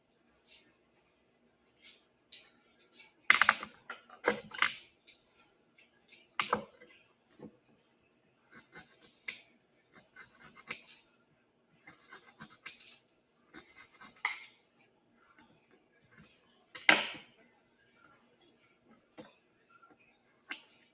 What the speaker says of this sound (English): we're going to just cut a little ginger up